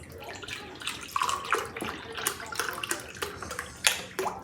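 Beef bone broth is poured into a bowl, a clear liquid splash and trickle that runs for a few seconds with small bursts and gurgles, close by. Nobody speaks.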